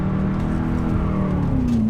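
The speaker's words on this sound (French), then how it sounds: "ce qui fait beaucoup de bruit là, c'est les pneus en fait qui cherchent du grip" BMW M3 E92 drifting with its tyres squealing for grip, a sustained high squeal rising near the end over a steady loud engine roar, close and continuous with no talk.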